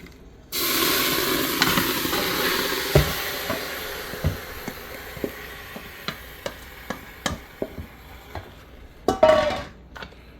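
Beef sizzles in an Instant Pot on the sauté setting for Guyanese pepperpot, a steady close hiss that starts abruptly, broken by sharp metallic clanks and scrapes of a utensil against the pot.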